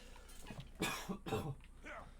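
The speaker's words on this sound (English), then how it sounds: "My cough is easing up a little bit." Two short, harsh coughs in quick succession, close and fairly quiet, followed by a softer breathy sound.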